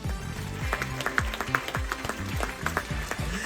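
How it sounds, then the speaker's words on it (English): Audience aboard the Royal Caribbean cruise ship Ovation of the Seas applauds during a captain's Q&A, sustained clapping over rhythmic low thuds, moderately loud and continuous. "Please, a nice round of applause for Captain Ryan."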